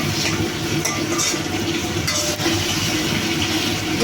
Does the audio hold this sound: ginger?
yes